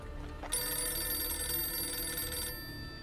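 A telephone rings in one long, loud electronic trill that starts suddenly and holds steady for about two seconds before cutting off. No one speaks.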